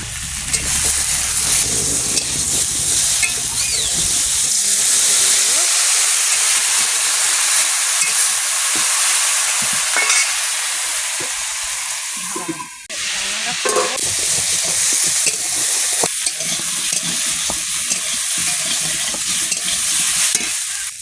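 Garlic fries in a pan with a loud, continuous sizzle and hiss, broken by occasional stirring scrapes and a brief dip before the frying surges back.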